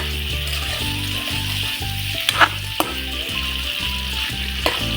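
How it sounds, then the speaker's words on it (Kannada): Paneer pieces coated in chili powder and salt fry in hot oil, a steady close sizzle with faint stirring scrapes and a few brief clinks, no voices. "ಇದನ್ನು ಈ ರೀತಿ ಕ್ಲೀನಾಗಿ ಚಿಲ್ಲಿ ಪೌಡರ್ ಸಾಲ್ಟ್ ಜೊತೆ ಈ ರೀತಿ ಜಸ್ಟ್ ಕೋಟ್ ಮಾಡ್ಕೊಳ್ಳೋಣ. ಲೈಟಾಗಿ ಫ್ರೈ ಮಾಡ್ಕೊಳ್ಳೋಣ."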